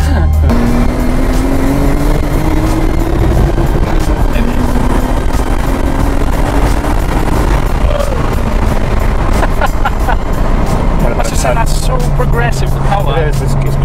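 A Bayside Blue Nissan R34 GTR replica's engine pulls hard through the gears, its rising drone heard from inside the car and largely covered by someone talking.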